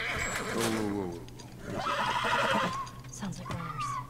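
A horse neighs and whinnies repeatedly in The Last of Us, with drawn-out calls sounding close, mixed with people talking.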